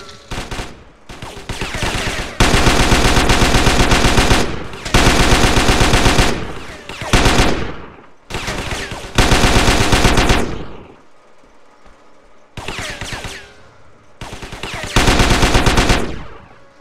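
Rapid automatic gunfire in GTA San Andreas blasts out in long, loud bursts, separated by short pauses and echoing tails, the sustained rattling shots repeating several times with no talk over them.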